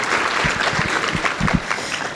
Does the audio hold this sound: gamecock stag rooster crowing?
no